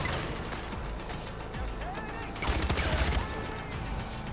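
Gunfire in the video game Far Cry 4: a burst of rapid, loud shots with mechanical weapon clatter sits over a busy game soundscape, and the shots stand out most near the middle.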